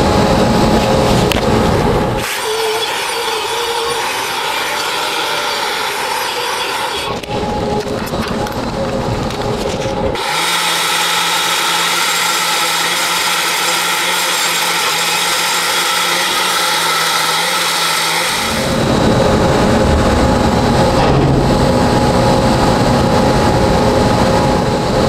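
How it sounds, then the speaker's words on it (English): An angle grinder removes slag from the root pass of a 2G open-root 6010 weld on pipe, giving loud, steady whining bursts separated by brief pauses as the disc spins up, bites and runs down. "Just be very cautious while grinding"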